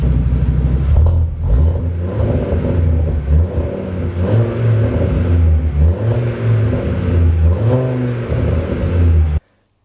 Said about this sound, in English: engine sounds perfect, sounds beautiful